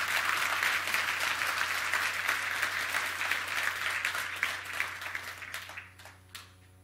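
A concert hall audience at an entrepreneurship event claps in sustained, dense applause that thins and fades out over the last seconds.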